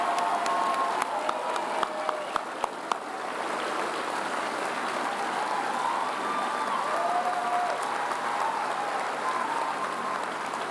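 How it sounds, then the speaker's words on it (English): Sustained applause from a large commencement crowd honoring the 23 graduating students at the 2023 Juniata College ceremony, a steady dense wash of clapping throughout with a few sharper claps early on. "How about one collective round of applause for all of our 23"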